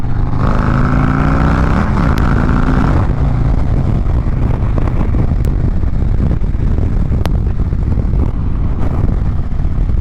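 Harley-Davidson Road King motorcycle being ridden, a loud, continuous engine rumble mixed with wind roar, with a brief rising shift in engine pitch near the start.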